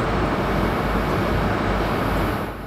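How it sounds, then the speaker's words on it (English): A full-size HST diesel train pulls out of London Paddington on the GWR Flying Banana railtour, a loud, steady broadband engine roar close by, swelling and holding throughout with a faint high whine on top. "we would never forget the sight of a full-size HST leaving London Paddington"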